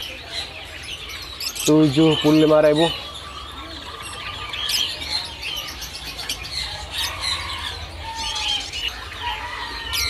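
Caged songbirds, among them a white-browed jongkangan and other finches, chirp and whistle at a bird kiosk in Pasar Pramuka market, with a loud trilling call near the start and people talking throughout.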